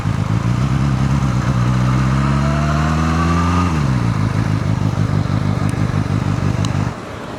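A Kove 450R motorcycle engine runs close and loud, rising in pitch as it revs and then dropping back to a steady idle before cutting lower near the end.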